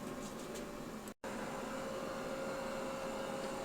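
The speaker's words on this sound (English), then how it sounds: "I got a vacuum going on" A vacuum cleaner runs nearby in a workshop during a printer conversion, a steady loud whine and hum that cuts out for a split second, then continues evenly to the end.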